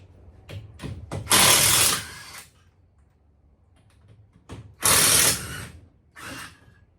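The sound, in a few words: ratchet wrench removing VW Beetle pan bolts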